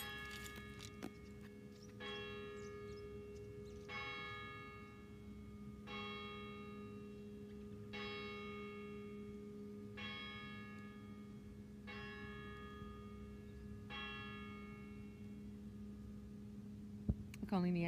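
Church bells ring in a steady series of evenly spaced strikes, about one every two seconds, each tone lingering briefly over a constant low electrical hum.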